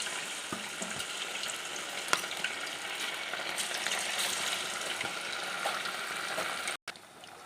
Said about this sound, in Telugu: కలిపిన చికెన్ని ఆయిల్లో వేద్దాం.